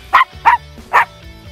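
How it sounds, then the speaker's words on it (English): A dog barks three times in quick succession outdoors by a house being washed, sharp loud close barks with short gaps between them. "This is JoJo, my dad's dog."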